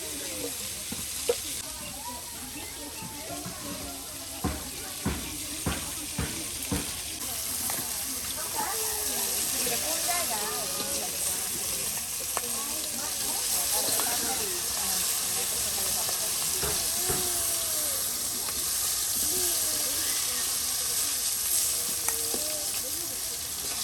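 Rohu fish frying in oil, a steady, loud sizzling hiss with popping and crackling spatters running continuously, while people talk over it.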